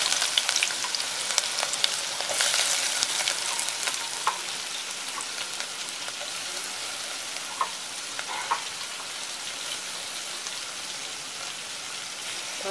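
Chopped onion sizzles in hot oil for a village-style chicken curry, a dense continuous crackle and hiss with occasional sharper pops and stirring scrapes, loud and close throughout.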